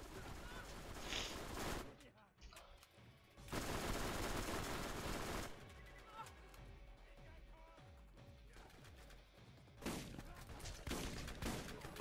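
Loud bursts of rapid automatic gunfire from Borderlands Game of the Year edition come in waves, with dense fusillades broken by quieter gaps with scattered single shots, under occasional player chatter.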